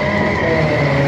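A race car, number 757, cruises past on the Aldershot Raceway, its steady engine drone holding loud and close through the whole moment with a faint tire edge.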